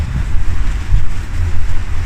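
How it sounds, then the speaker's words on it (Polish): Heavy wind buffeting the microphone, a loud continuous low rumble with gusty swells and no voices. "za mocno wiatr słychać"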